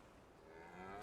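Cows mooing in the video game Farming Simulator 25, a low drawn-out bovine call rising toward the end of a brief moment, steady and moderately loud with no talking.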